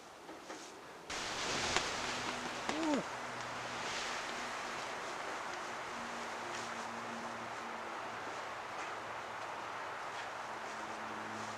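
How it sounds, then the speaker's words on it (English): Wind howls steadily outside a hunting blind, a broad windy rush with a brief whistling tone and a sharp knock early on. "If it gets really, really windy, like it is right now, you can hear it howling out there"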